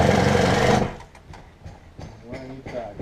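A screw gun drives a screw through liquid flashing in one short, loud whirring burst under a second long, then stops as a voice talks over quieter handling noises.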